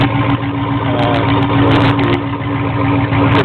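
Close, loud rumble of a Chevy Z71 truck engine running with open exhaust and the muffler removed, a steady throbbing idle with no one talking over it.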